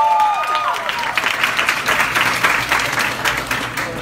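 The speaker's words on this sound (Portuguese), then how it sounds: "Uma salva de palmas." University students applaud and cheer at a lively social work student event at UFF and UFRJ, with loud, dense clapping and crowd noise close by and voices talking over it.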